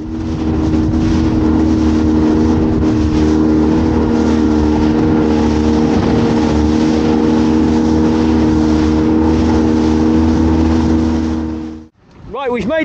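A motorboat engine drones loudly and steadily at close range as the boat heads out to crab and lobster pots, with wind rushing past. The engine cuts out near the end.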